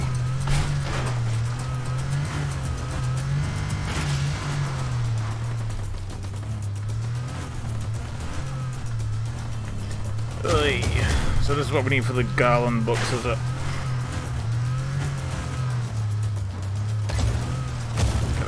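Car engine droning steadily through a chase in Just Cause 4, with brief bursts of gunfire and impacts in the middle, while people talk over it.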